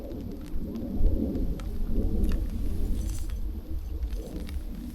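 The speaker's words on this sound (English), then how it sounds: "I think it's raining" Rain falls with low rumbling thunder, a constant heavy low roar and patter heard from indoors, with a few faint clinks over it.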